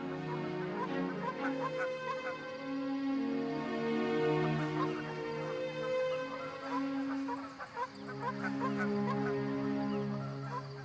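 A flock of geese honks and calls continuously at a wintering area on Canada's east coast, many overlapping nasal cries at moderate distance with no voices.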